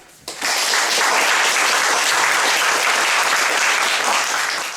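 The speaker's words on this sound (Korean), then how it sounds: "박수 좀 부탁드립니다." At a literary lecture event in Wonju, an audience claps for the author and interpreter, with the sustained, even applause rising quickly after a short pause and filling the room until the end.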